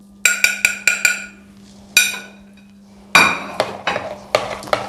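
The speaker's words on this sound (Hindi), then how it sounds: "अब इस सारे मसाले हम अच्छी तरह मिक्स करेंगे।" A spoon mixes spices for chicken malai boti, including green chili paste, cumin powder and coriander powder, in a bowl, making sharp close clinks and scrapes in quick bursts with short pauses and no talking.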